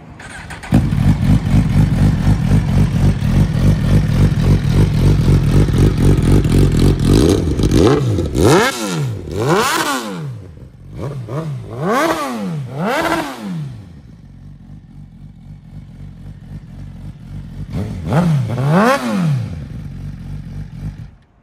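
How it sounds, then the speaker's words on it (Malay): A 2018 Suzuki GSX-R1000 sport bike with an Akrapovic exhaust idles loudly and steadily, then gives a series of sharp revs that climb and fall, with a final rev near the end. "kita cuba start tengok yang Suzuki GXXR 1000 Akrapovic bunyi macam mana."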